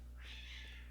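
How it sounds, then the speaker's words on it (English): Cats fighting in a video game island setting, a strained, drawn-out yowl rising over a steady low hum and lasting nearly the whole second, faint and in the background. "Kitties fighting in the background."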